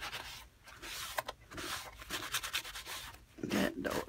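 A rag rubs excess purple paint off a fabric book page, a steady close scrubbing and swishing with uneven strokes that grows louder near the end, with no speech.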